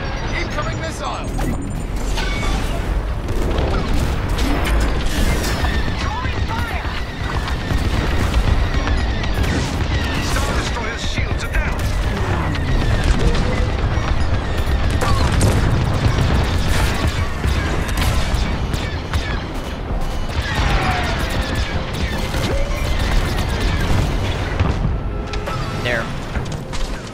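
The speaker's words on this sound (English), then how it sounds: "Incoming missile!" Missile explosions and combat in the Star Wars Squadrons multiplayer game, dense continuous rumbling booms and blasts with engine whine, loud throughout with game effects layered together.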